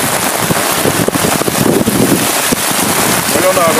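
Heavy afternoon rain in Umuarama pours with water rushing over a sidewalk, a loud, dense, steady wash with wind buffeting the microphone throughout.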